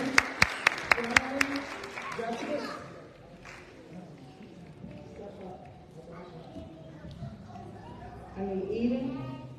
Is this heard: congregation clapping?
yes